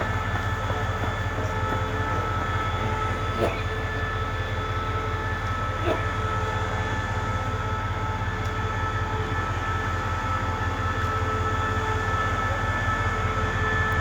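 Express train 102 from Chiang Mai to Bangkok pulls out of a station, a steady, loud rolling rumble with a constant engine drone and occasional faint clicks throughout.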